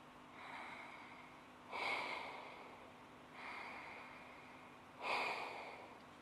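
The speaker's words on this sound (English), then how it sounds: "That constriction in the throat causes that noise as you breathe in and as you breathe out" Breath drawn slowly in and out through the nose while the throat is constricted, making a rasping, hissing noise. Four breaths alternate in and out, close and quiet, with no talking.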